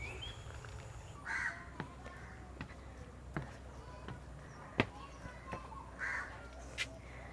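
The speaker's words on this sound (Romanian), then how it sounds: "Stau aici cu păsările. Cu ciorile." Crows cawing beside a lake in Habarana, Sri Lanka, with several short harsh calls scattered over steady background noise, some near and some farther off.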